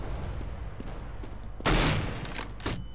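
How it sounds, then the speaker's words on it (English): Silenced pistol shots in Counter-Strike: Global Offensive, one loud burst followed by a couple of quieter, quick shots over steady game background noise. "With the silent pistol."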